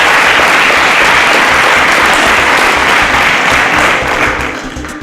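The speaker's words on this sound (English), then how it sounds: "A round of applause for justice." A game show studio audience bursts into loud, sustained applause, dense clapping filling the room before tapering off near the end.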